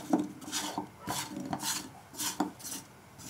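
A spoon scraping and stirring melting jaggery in ghee in a kadai over low heat: repeated rhythmic metallic scrapes and rubs against the pan, close and moderately loud, with no talk.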